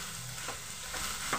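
Masala sizzles in a pan with paneer, potato and beetroot while a spoon stirs, a steady soft fry hiss broken by a few scraping stir strokes, close and quiet with no talk.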